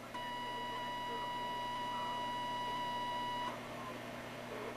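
A steady electronic beep tone from an alarm monitoring console sounds continuously for about three and a half seconds, then cuts off, leaving a faint hum of room noise.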